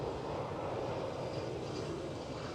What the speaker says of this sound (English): EasyJet departing